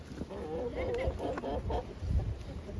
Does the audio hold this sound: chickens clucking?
yes